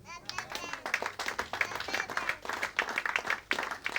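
A church congregation claps in rhythmic, fairly close bursts to acclaim the Lord, with voices mixed in under the steady clapping.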